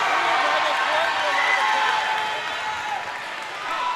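A loud crowd of Ranger fans cheers and shouts in a school volleyball gym, a sustained roar that dips slightly and then swells again near the end.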